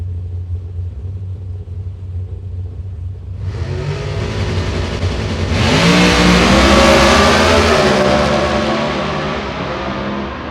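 Drag race cars at Gainesville launch from near silence into a deep rumbling roar that swells to a loud, bright, sustained acceleration, then slowly fades as they pull away.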